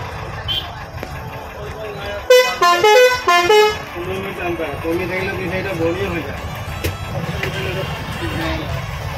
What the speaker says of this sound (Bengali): আজকেও কালকের মতো বাসে বসেছি, আর বাসটা ছাড়লো।